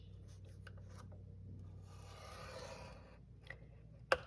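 A stylus drawn along paper on a scoring board for a treat box, a soft close scraping rub that swells in the middle and ends with a sharp click.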